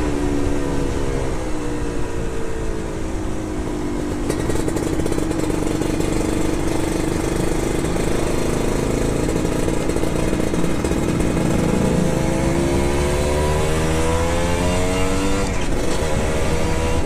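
Kawasaki Ninja RR two-stroke motorcycle engine heard while riding past a town square, a steady loud drone with rising and falling revs through the gears, continuous and close with no talk.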